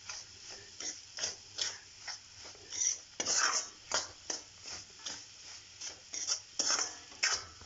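A metal spoon scraping and stirring moong dal halwa in a pan as the sugar melts: rhythmic, repeated scrapes and clinks about twice a second, close and clear, with no talking.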